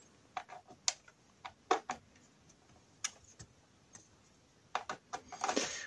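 Small metal key tightening screws on a Blackview Active 8 Pro rugged tablet, giving close, crisp irregular ticks and clicks with short pauses, ending in a brief scraping burst.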